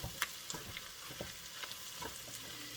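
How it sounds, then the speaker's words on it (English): Noodles tossed into a pan of hamburger meat with broccoli, giving a soft, steady sizzle with a few scraping stirs and light clicks, quiet and close, no talking. "I'll go ahead and put in the noodles and get those put in there with a mix"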